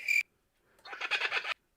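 A cricket chirping sound effect: a brief high tone, a short pause, then a rapid pulsed trill of chirps, heard alone with no talking.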